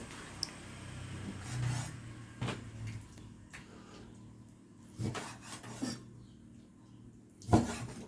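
A handful of sharp knife chops through squid on a cutting board, spaced irregularly with quiet pauses between, close by and fairly soft.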